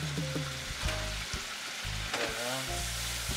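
Canola oil and a big tablespoon of butter sizzle and crackle steadily in a hot pan, a dense close frying hiss with small pops and a low mechanical hum running underneath.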